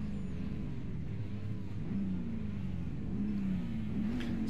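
Chevrolet NASCAR pickup truck engine in the iRacing simulator, a steady mid-pitched drone that rises and falls as the engine revs, continuous and fairly close with no talk over it.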